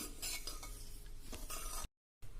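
Roasted desiccated coconut is scraped from a pan into a vessel, a close run of spoon-on-metal stirring and scraping with light clinks and a faint sizzle, then a brief silence before scraping resumes.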